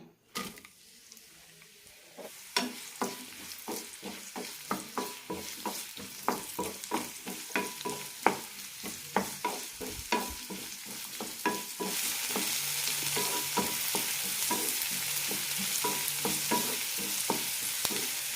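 Sliced onions sizzle and fry in oil in a pan for egg kurma, with a steady hiss that grows louder and denser partway through and repeated scraping and stirring clicks over it.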